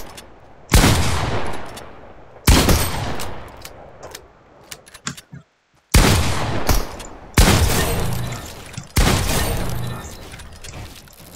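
Gunfire in the Fortnite video game, with five loud, sharp bursts of rapid shots separated by short pauses, heard close and alone.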